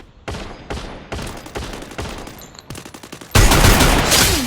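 Rapid gunfire from the Free Fire battle-royale video game: several short bursts and quick shots in a choppy rhythm, loud and close, ending in a dense, roaring volley of fire.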